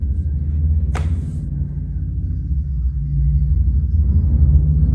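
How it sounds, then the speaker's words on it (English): Low, continuous rumble of a noisy car engine revving next door in a residential neighborhood, heard from indoors at moderate distance, with a brief bright click early on and the drone swelling slightly toward the end. "a big old noisy car decided to come through next door, revving their engine, playing their music"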